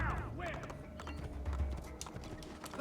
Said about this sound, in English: a conveniently placed horse